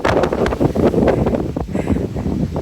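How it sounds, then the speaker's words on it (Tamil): Strong wind buffets a microphone on a rocky hilltop, a steady loud roar with gusting swells throughout, no voices heard. "என்னமா காத்தடிக்குதுங்க"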